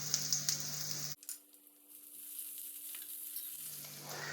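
Onion, curry leaves and ginger garlic paste frying in oil for a chicken coconut milk curry. A bright sizzle cuts off abruptly to a faint simmer, then swells back toward the end.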